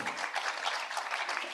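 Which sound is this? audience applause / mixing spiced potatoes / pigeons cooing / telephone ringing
audience applause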